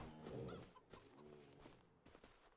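Chickens cluck softly on a farm in Farming Simulator 25, a few short, faint clucks and murmurs from hens and a rooster, fairly close but quiet.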